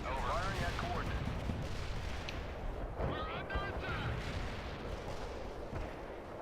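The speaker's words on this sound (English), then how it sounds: "This is Zulu 9er mortar strike inbound." Mortar strike in the World in Conflict game: dense, continuous booming artillery fire and explosions rumble throughout, with radio-style voice chatter heard briefly over the barrage.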